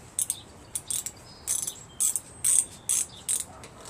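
The flywheel of a Craftsman LT1500 lawn tractor engine is turned by hand with the spark plug out, producing a series of close, sharp clicking and ratcheting bursts in an uneven rhythm, with no talk.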